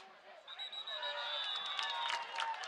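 A Washington High football crowd cheering in the stands at a varsity game against Preston High: a sustained, distant roar of voices with whistles and rising shouts, swelling slightly toward the end.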